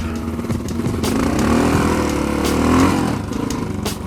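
A Honda XR650L motorcycle engine runs steadily nearby with a loud, continuous rumbling idle that swells slightly midway, no talking over it.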